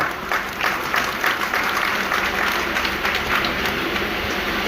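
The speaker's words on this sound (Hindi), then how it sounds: "कभी जोरदार ताली बजा रहे" Loud, continuous applause from an audience at a Hindu-themed poetry gathering in Ghaziabad, a dense steady roar of clapping lasting throughout with no talk over it.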